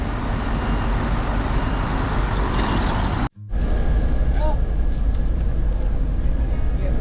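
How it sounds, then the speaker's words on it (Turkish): A bus engine idles with a steady low rumble beside a road, cut by a brief drop in sound, then resumes amid traffic noise and faint voices. "Otobüsümüz bu."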